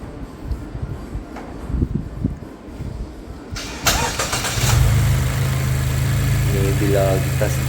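A Mazda 2 Skyactiv engine cranks and catches with a sudden burst, then settles into a steady, close mid-pitched idle, after quieter rustling and handling noises at the start.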